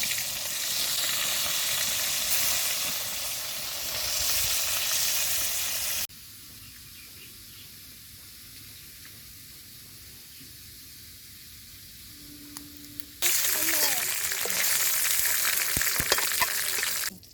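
Baim fish (eel) frying in hot oil, a steady broadband sizzle that drops away for several seconds partway through, then returns loud and bright near the end, with no talking.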